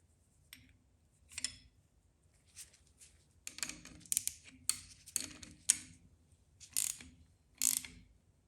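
A drive gear puller tool being tightened by turning its nut, giving close, dry ratcheting clicks in irregular short bursts with pauses between turns and no talking.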